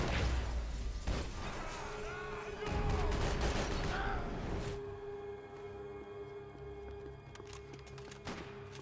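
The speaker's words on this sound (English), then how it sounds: "I just hear gunfire and get scared." Bursts of gunfire crackle through a busy Max Payne 3 game soundscape, with sharp repeated shots early on, then a steady tonal hum and scattered distant pops.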